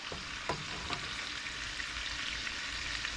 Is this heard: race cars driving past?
no